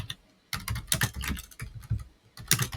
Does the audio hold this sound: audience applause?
no